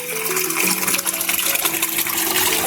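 Steady, continuous rush of flowing water on rural land in Tagkawayan, Quezon, close and fairly loud, with a faint tonal hum underneath and no talking.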